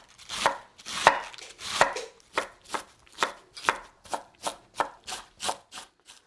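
A knife taps rapidly on a cutting board, about a dozen crisp, evenly spaced chops of mincing vegetables, close and fairly loud, with no talking.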